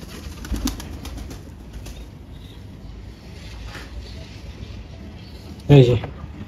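Pigeons in a pigeon loft, with one short, louder coo near the end rising over a steady, noisy background.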